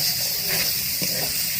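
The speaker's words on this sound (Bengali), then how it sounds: "এবার টমেটোটা দিয়ে কষে নেব।" Tomatoes hiss and sizzle loudly as they fry with potatoes in a spiced masala. The burst is brief and close, with no voice over it.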